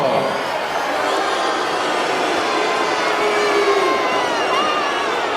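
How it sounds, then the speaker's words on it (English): A large arena crowd boos the Soviet boxer Drago in Rocky IV, a dense continuous roar of jeering voices heard loud and unbroken. "The booing's here just as much though."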